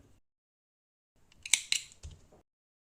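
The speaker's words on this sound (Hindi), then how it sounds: "अब हम इस ऊन को यहाँ पर काट लेंगे।" Scissors snip through wool yarn after a knitted baby shoe is finished: a couple of short, crisp metallic cuts close by, followed by a faint low thud, in an otherwise quiet room.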